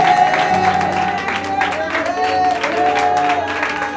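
A church congregation applauds and cheers at a morning service, sustained loud clapping with scattered shouts and a voice carrying over the crowd throughout.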